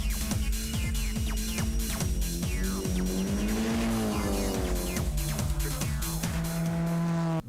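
A Japanese performance car drifts, its engine howling and pitch rising and falling under a long, loud tire squeal with rapid rhythmic bursts, close and continuous.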